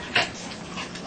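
Pet dogs whimper and yip close by while being given ice popsicles outdoors, a short high whine near the start followed by softer whimpering over steady background noise, with no talk.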